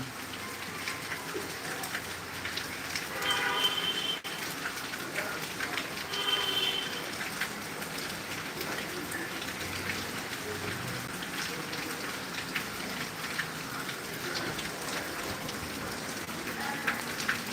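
Rain easing off in Tangail falls as a soft, steady patter, fairly faint, while a pigeon or dove coos a couple of times in the background.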